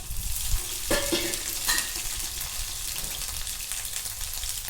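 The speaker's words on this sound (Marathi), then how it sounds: "तेल तपलं, तेलात टाकते मी जिरं" Cumin seeds dropped into heated oil for tempering sizzle and crackle steadily and close, a dense frying hiss with a few brighter pops near the start.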